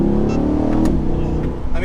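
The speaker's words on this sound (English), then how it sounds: "I just floored it there, and we went from 20 to 70 like this" Chevrolet C8 Corvette Z51 accelerating hard from 20 to 70, its engine rising in a loud, continuous roar close by, with a voice talking over it.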